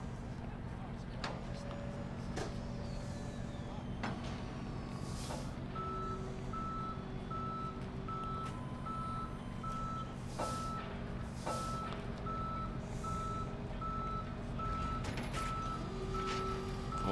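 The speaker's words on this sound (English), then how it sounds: "The tow truck's right there." A tow truck in the Police Simulator: Patrol Officers video game reverses with a steady, evenly spaced electronic beeping over a low engine drone, with scattered other game sounds and a person talking.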